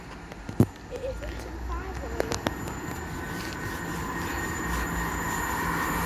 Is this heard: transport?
yes